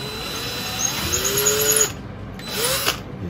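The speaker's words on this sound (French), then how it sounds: "Donc je perce." Electric drill boring holes in wood for a router table guide, a loud whirring spin that rises in pitch, cuts off briefly, then starts again for a second short run.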